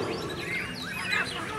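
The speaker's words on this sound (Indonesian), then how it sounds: "Perhatikan Murai Batu." White-rumped shama (murai batu) singing at a songbird contest, with bright varied whistles and warbling phrases rising over a busy crowd hum for a short stretch.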